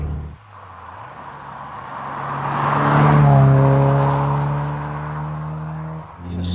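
A 2004 Subaru Impreza WRX STI Spec C Type RA pulls steadily in sixth gear from just below 2,500 RPM, its engine drone swelling to a loud peak mid-way, then easing back.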